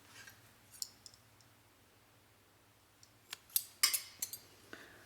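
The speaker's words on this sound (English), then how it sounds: "Now I'll chain 1, then I'll cut this yarn." Scissors snip crochet yarn in a quiet room: a few faint clicks early on, then a cluster of sharp, close cuts and clicks, with no talk.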